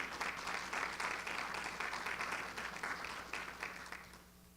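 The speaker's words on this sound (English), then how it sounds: "Won't you give a round of applause for our faculty?" Steady audience applause for faculty at an academic colloquium, a dense wash of many hands clapping at moderate distance that holds for several seconds and then tapers off.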